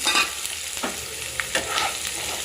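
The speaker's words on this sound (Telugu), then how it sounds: "అవి కొంచెం ఫ్రై అయ్యాక 3 ఆనియన్స్ సన్నగా కట్ చేసుకొని అందులో వేయాలి" Thinly sliced onions sizzle and crackle in a hot pan of oil with green chilies while a spoon stirs, a continuous close frying hiss with scraping stirs and no talking.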